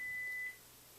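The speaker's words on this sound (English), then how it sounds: "I don't know what in the world just beeped." A short, steady electronic beep of unknown origin sounds in a room, a single sustained tone lasting about half a second before cutting off, leaving quiet room hiss.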